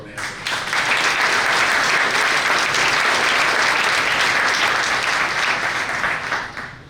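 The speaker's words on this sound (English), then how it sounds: "So another round of applause for Amanda." An audience at an awards event breaks into loud, sustained applause that swells quickly and holds steady for several seconds before starting to fade.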